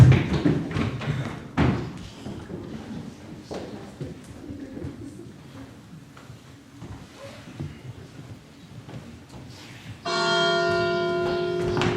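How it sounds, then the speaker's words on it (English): A night bell rung for an emergency in a stage play rings out with a sustained, loud metallic tone near the end, after stretches of thumps, bumps and faint stage voices. "that's the night bell. We only use it for emergency."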